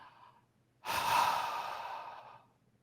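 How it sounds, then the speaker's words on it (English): A person's breathing, heard close and alone as one long, broad breath with a faint raspy edge, following a quieter breath at the start. "one of the things I can hear is a little wheezing."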